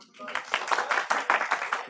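Students in a classroom clap for a classmate during a lecture, a brief burst of fairly close applause lasting under two seconds with uneven, overlapping hand claps.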